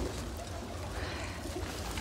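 Pigeons in a home loft coo softly, low murmuring calls repeating over a brief moment amid faint background noise.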